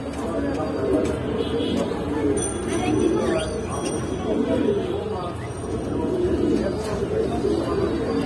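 Pigeons of several fancy breeds, among them racers and Lahori birds, coo steadily in a busy loft while people talk over them and a babble of voices fills the space.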